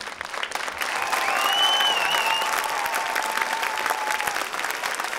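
A television talent show audience applauds a child singer, a loud, sustained, even burst of clapping from a large crowd, with a faint tonal whistle briefly rising above it.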